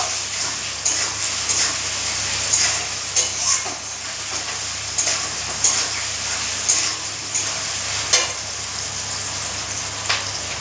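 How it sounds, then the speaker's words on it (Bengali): Chopped onion fries in hot oil in a pan for katla fish curry, a constant hissing sizzle broken by occasional scraping stirs, close and steady with no one speaking. "পেঁয়াজ কুচানোটা দিয়ে দিলাম, তাই আজকে একটু অন্যরকম করে কাতলা মাছটা রান্না করছি।"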